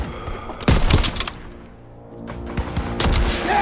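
Rapid bursts of World War II gunfire in the Call of Duty WW2 game, loud and close, with sharp volleys at the start and again near the end around a brief quieter lull.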